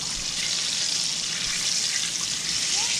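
Water runs steadily from a tap over hands being rinsed of flour, a constant broadband hiss at close range with no talking.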